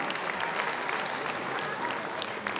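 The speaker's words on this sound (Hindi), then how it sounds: "तो जोरदार तालियों से अभिनंदन करिए अरविंद मौर्य जी का।" An audience at an award ceremony for sanitation honors in Varanasi bursts into dense, steady applause, many hands clapping loudly and continuously throughout, close and filling the room.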